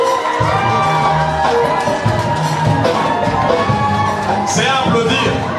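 Applause and cheering fill the hall at a school awards evening, a dense, sustained crowd roar with shouts and whoops mixed in.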